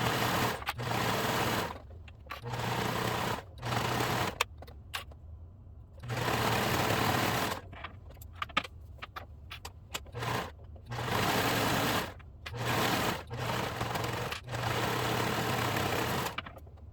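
A sewing machine stitching the side seams of a raglan tee runs in loud, steady bursts of whirring, stopping and starting several times at close range, with no voices.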